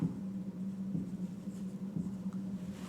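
Teacher writing a word on a classroom board: steady, close scratchy strokes with soft rhythmic taps, continuous for about three seconds over a low background hum.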